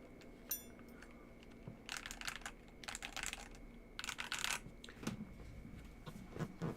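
Quiet bursts of typing on a Monsgeek FUN60 Pro or Epomaker Luma 40 mechanical keyboard, several short clusters of crisp clicking keystrokes separated by pauses, close and alone.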